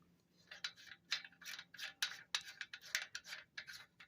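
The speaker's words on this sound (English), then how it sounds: "As you can see when I unscrew the cap where the brushes should be" Cap being unscrewed from the brush holder of a Federal Signal Model 2 siren motor, giving a rapid series of close, dry ratcheting clicks and scrapes that come in uneven bursts, with no voice over them.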